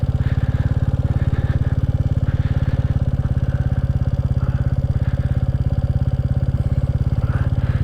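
A Royal Enfield Classic 350 single-cylinder engine chugs steadily and loudly up close with an even, low thumping beat, sounding like it is idling or pulling slowly along a road in the Brecon Beacons.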